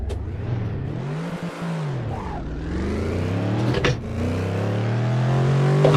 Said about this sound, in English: Getting some better engine sounds wouldn't be the worst.